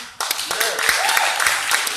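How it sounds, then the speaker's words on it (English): A small comedy club audience gives a thin scattering of claps, a brief sparse round of individual hand claps close by with a voice talking over it. "Thank you for the saddest round of applause"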